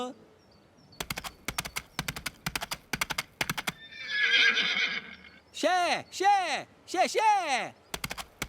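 A cartoon character in a children's show voices a horse, with rapid rhythmic clip-clop clicks followed by a rising-falling whinny and several loud neighs, all vocal imitations near the listener, with brief speech.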